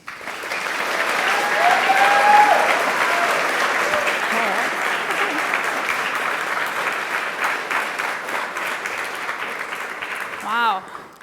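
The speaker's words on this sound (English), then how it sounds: "We're going to have a huge round of applause" Loud, sustained audience applause at a talk on character rigging and cinematic animation, a dense wash of clapping lasting about eleven seconds that tapers slightly toward the end.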